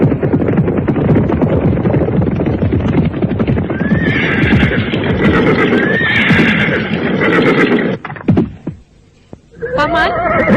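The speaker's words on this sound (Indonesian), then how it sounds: "kuda yang ditinggalkan oleh kuda Sumekar, menerobos jalan setapak di hutan pinus" A horse gallops along a forest path through pines, hooves pounding fast and loud, with two high whinnies rising above the steady beat before the hoofbeats break off and a final neigh sounds.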